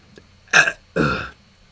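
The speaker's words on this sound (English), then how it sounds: "Those are some streaming burps." Two loud, close burps in a row, the second longer and more drawn out, with quiet room tone between them and no speech.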